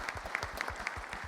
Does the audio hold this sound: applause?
yes